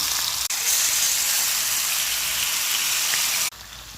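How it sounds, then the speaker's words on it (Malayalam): Pieces of stingray fish dropped into hot oil in a pan, giving a loud, dense hiss of sizzling and frying that starts abruptly and holds steady before cutting down. "അപ്പോൾ എണ്ണ ചൂടായി വന്നിട്ടുണ്ട്, ഓരോ പീസായി വെച്ച് കൊടുക്കാം"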